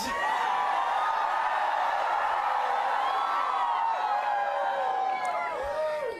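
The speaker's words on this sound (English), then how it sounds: "It's a pretty quiet crowd tonight." A large crowd at an Australian federal election night victory event keeps up loud, sustained cheering and whooping, a dense wash of voices that runs unbroken from start to finish.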